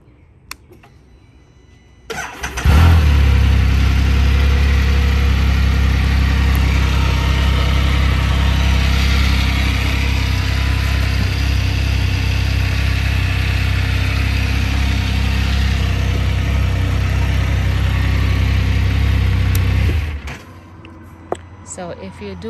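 A 2022 Can-Am Spyder F3-S starts and idles for around eighteen seconds, a steady close low engine rumble that then cuts off, with talk around it.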